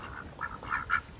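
Ducks quack near a farm pond in Normandy, France, three or four short nasal calls in quick succession, moderately close with a soft outdoor background.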